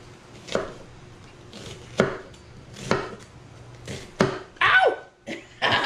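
A knife slices through an onion on a cutting board, giving about six sharp, evenly spaced chops at close range, with a faint scraping sound near the end.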